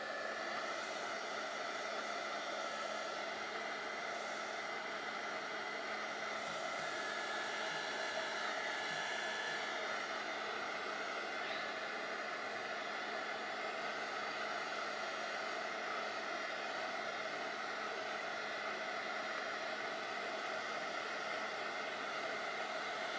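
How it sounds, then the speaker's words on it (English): A continuous whirring blow of a heat tool drying paint on a craft card, steady and unbroken, with a breathy rushing hiss and a faint motor hum. "I'm just going to use my heat tool to dry this"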